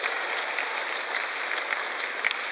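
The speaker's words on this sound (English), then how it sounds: "Let's just clap for Jesus." A church congregation at a large worship congress claps together in steady, dense applause, a continuous wash of many hands at moderate volume with no talking over it.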